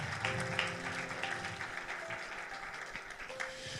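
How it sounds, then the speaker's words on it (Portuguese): Church congregation clapping in praise during a service, a soft, fairly distant patter of hands that continues throughout under sustained tones from music. "Dá uma salva de palmas a Deus,"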